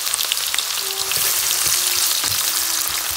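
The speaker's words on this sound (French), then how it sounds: "Donc je commence par les oignons. Je vais les faire revenir, les faire cuire complètement." Onions sautéing in a pan for a vegetable nem filling, a loud, dense, continuous sizzle and crackle up close with no voices.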